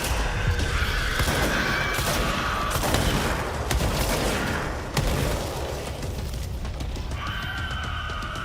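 Dense, sustained gunfire and booming impacts from the video game Control, a continuous loud barrage of shots and crashes with short bursts throughout.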